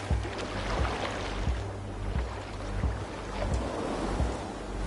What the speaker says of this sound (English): Through the waves.